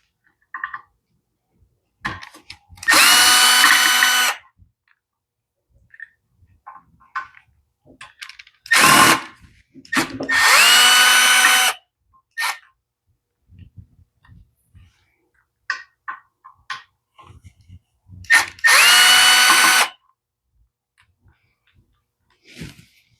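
A power driver fitted with a T15 bit backs screws out of a McLane edger carburetor: four loud, close whirring bursts of about a second each, separated by pauses filled with small clicks and handling taps.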